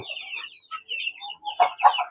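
Rhode Island Red chickens on a farm clucking in soft, uneven bursts, with a couple of louder squawky clucks near the end, close by with no talk.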